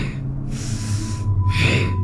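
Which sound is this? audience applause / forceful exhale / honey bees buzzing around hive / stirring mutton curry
forceful exhale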